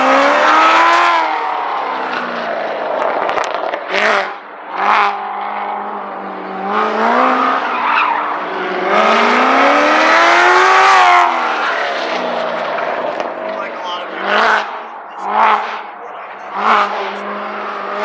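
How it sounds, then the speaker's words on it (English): Car engine with a stock exhaust roars loudly and close, rising and falling through repeated revs and gear pulls, with brief dips between bursts during a ride. "that sounds absolutely insane. That's not even a custom exhaust."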